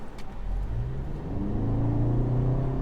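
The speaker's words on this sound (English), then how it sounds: "Let's see a proper 0 to 60 in sport mode." A 2025 Toyota Camry LE with a CVT accelerates hard in sport mode, its engine drone climbing steadily and evenly with no gear shifts, heard close from inside the cabin.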